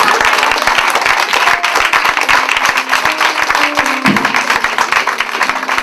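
A church congregation bursts into sustained applause during a worship service, with dense rhythmic clapping and some cheering that stays loud and close for the whole stretch, with no talking over it.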